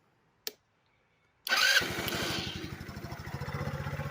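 A 150cc GY6 scooter engine, freshly rebuilt and sprayed down, gives a sharp click, then cranks and fires up abruptly. It settles into a close, loud, rapidly pulsing idle.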